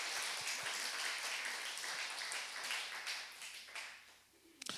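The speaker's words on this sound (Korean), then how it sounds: "박수 한번 주시기 바랍니다" Church congregation clapping at a Korean Sunday service, a soft, fairly distant patter of applause that thins out toward the end.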